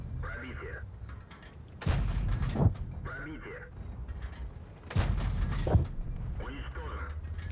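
Two heavy tank cannon or artillery blasts from a World of Tanks match with the T-50-2 tank boom a few seconds apart over a low mechanical engine rumble. A player talks in the quieter stretches between them.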